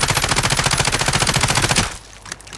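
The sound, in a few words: machine gun firing in Call of Duty Modern Warfare video game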